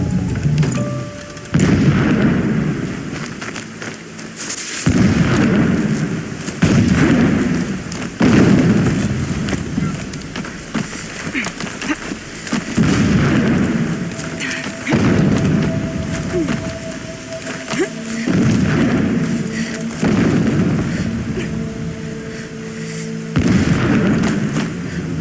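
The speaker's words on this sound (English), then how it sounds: "Explosions in the distance." Repeated deep booms roll in at intervals over a rumbling backdrop, like distant explosions echoing across a battlefield, in the video game Horizon Zero Dawn Remastered.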